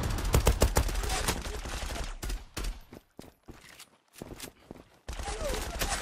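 An M902 pistol fires rapidly in a video game: dense bursts of quick shots, then a sparser stretch of scattered single shots, and a final flurry of gunfire.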